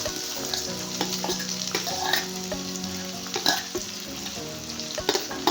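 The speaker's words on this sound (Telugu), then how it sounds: "జీడిపప్పు కొంచెం ఫ్రై అయిన తర్వాత ఇందులో వెజ్జెస్ అన్నీ one by one add చేసేసుకుంటామే onions beans" Cashews and chopped vegetables (onions, beans) frying and sizzling in an oil-filled pan for veg fried rice, a steady crackle with occasional stirring scrapes, close and alone with no talking.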